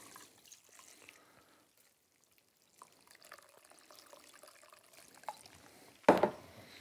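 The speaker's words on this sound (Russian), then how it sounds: "Промываю водой оба вида" Cooked rice noodles and egg noodles rinsed with water, a faint close trickle and splashing at first, then a louder burst of pouring and splashing near the end.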